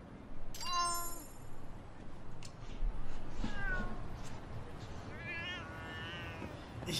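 A cat in the video game Lost Judgment meows several times, with a sharp call early on and drawn-out, wavering meows later, heard clearly against a soft game background.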